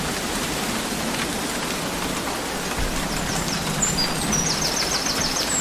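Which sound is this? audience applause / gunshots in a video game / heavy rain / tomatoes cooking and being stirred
heavy rain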